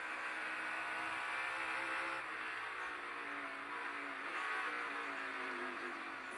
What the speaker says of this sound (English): You can hear him on the brakes